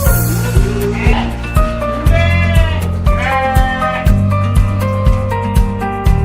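Sheep at a village sheep-fattening farm in Desa Talang, Sendang bleat loudly and repeatedly up close, with wavering cries over a steady rhythmic beat in the background.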